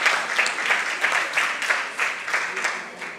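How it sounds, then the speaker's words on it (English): Steady applause from an audience, a dense wash of many hands clapping continuously with slight swells, with no voices over it. "let's just give her a round of applause"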